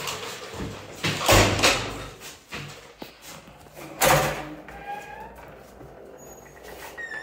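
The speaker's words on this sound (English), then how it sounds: "Get the other door for me." Car doors thud shut in a couple of sharp, loud bangs with rustling and handling noise between them, followed by quieter movement and faint chirps.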